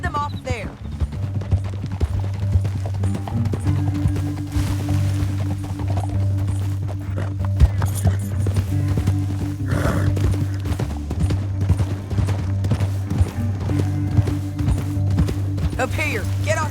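Horse hooves clip-clop and gallop in Red Dead Redemption 2, a steady rhythmic pounding under a low droning score, with occasional louder hits and faint voices in the mix.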